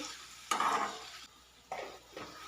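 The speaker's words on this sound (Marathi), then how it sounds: "ज्या काय आपण कटिंग केलेल्या भाज्या होत्या त्या एक एक करून घालायच्या आहेत आणि त्यासुद्धा एक दोन ते तीन मिनटं व्यवस्थित परतून घ्यायचं आहे" Chopped vegetables for veg yakhni pulao sizzle and fry in a pan while being stirred, with loud bursts of frying noise rising and falling in a few waves, close by and with no talk.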